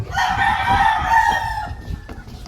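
A battle stag gamecock crows on a farm, close and loud, one drawn-out crow lasting about two seconds over low background clucking from other fowl.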